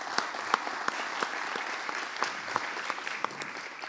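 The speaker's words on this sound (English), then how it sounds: "Let's give a round of applause for Commissioner." An audience applauds at a panel discussion on policing and law enforcement. The clapping is dense and steady, with sharper individual claps popping through, and it holds for about four seconds.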